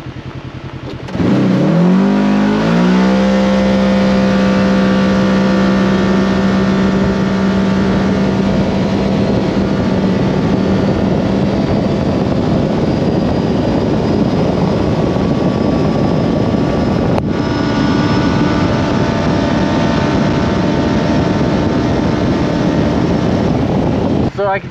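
A Kawasaki KRX 1000 UTV on 35-inch tires with a Dynojet PV3 tune, stock belt and stock clutching revs up and accelerates, its engine droning loud and steady for a long stretch, with a voice talking over it.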